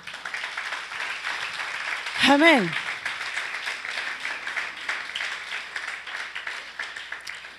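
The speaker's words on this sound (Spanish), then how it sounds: "Denle el aplauso a Él." Steady applause from a church congregation runs throughout, with a voice briefly rising over it partway through.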